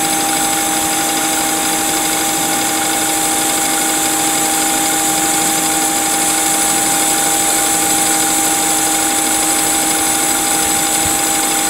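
A metal lathe makes a deep taper boring finish cut, holding a steady, loud, high-pitched machining whine with constant motor hum and no talking.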